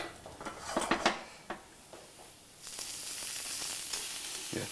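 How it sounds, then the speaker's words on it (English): Vegetables hiss and sizzle in a hot pan, with a few clatters at the start, then a steady, louder frying crackle that fills the rest. "a bit more of a sizzle on there then."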